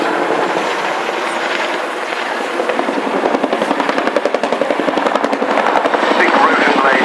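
A Chinook helicopter flying a display at the Cosford Airshow 2015, its big rotors producing a loud, rhythmic thudding blade chop that strengthens as it passes, with an announcer talking over it.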